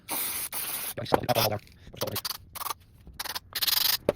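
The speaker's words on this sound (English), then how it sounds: "Bit of brake cleaner." Brake cleaner sprayed from an aerosol can onto car brake parts in a garage, a run of loud, close hissing bursts of varying length with short gaps and some clattering between.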